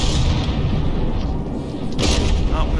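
Heavy cannon fire from an APS gun on a battleship in From the Depths, with low rumbling booms running continuously and a sharper burst near the end.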